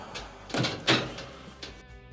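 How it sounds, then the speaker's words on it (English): An LG dryer door swings shut with a soft thump, followed by a faint latch click, close by in a quiet room. "We'll go ahead and close the door"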